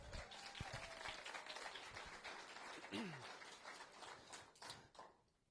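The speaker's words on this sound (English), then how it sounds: "So round of applause to all of them." An audience applauds finalist teams at a university startup competition's finals event, a dense wash of clapping that runs steadily and then fades out near the end.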